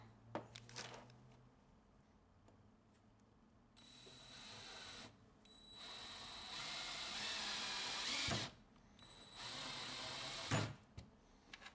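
A screw is driven into wood with a power driver: several whirring bursts lasting a few seconds each, separated by brief clicks and handling noises. The sound is fairly quiet and close, with no speech.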